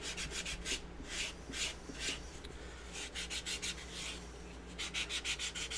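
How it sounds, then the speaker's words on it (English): A 150-grit sanding stick is rubbed over a carved foam sculpture's head in repeated short rasping strokes, close and steady in bursts with brief pauses, no talking. "I got a 150 sanding stick here."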